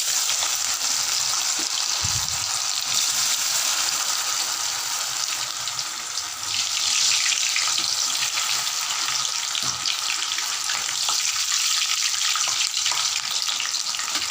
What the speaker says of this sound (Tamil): இப்படியே எடுத்து போட்டு எண்ணெயில் பொரிச்சிக்கலாம்